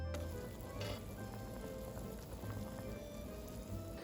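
Tortellini soup with sausage, white beans, spinach and tomatoes simmering at a low boil, a faint, continuous bubbling hiss like light rain, steady throughout with no talking.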